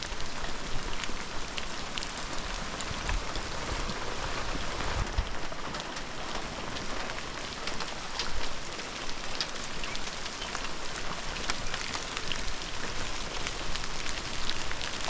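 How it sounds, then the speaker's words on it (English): Steady, heavy rain falls continuously, a dense hiss of drops striking surfaces close by, with no voices. "yep, lots and lots of rain."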